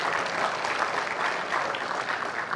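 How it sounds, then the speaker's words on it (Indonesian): An audience of young people applauds Cak Imin and Prof Mahfud MD at a campus event, a dense, even wash of clapping that stays loud and steady throughout. "Tepuk tangan buat mereka berdua."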